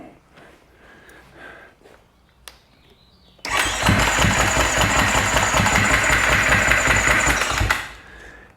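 A freshly rebuilt Husqvarna FC450 motorcycle engine cranks loudly and steadily for about four seconds without catching, following quieter clicks and handling noises, then winds down.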